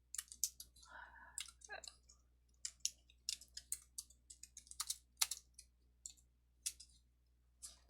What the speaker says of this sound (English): I can type a 0 here